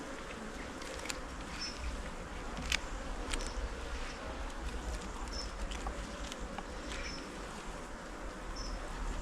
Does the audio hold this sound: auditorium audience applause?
no